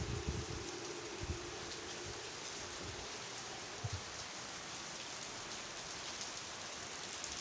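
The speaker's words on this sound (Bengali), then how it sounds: "এই বৃষ্টির মধ্যে" Steady rain pours down outdoors at a royal palace in Jalpaiguri, a dense, even hiss of drops striking surfaces with a few low thuds, continuous and moderately loud throughout, with nobody speaking.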